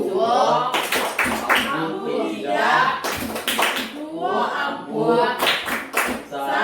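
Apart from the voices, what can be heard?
group clapping a rhythmic clap chant (tepuk santri)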